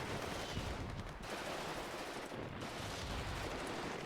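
Continuous .50 cal machine gun fire in the game WARNO, a dense, steady, distant-sounding rattle of rapid shots that runs unbroken for several seconds with no voices.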